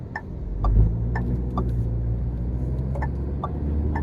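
Inside a 2024 Tata Safari SUV moving onto a highway, a steady low engine and road rumble carries a regular, evenly spaced ticking throughout.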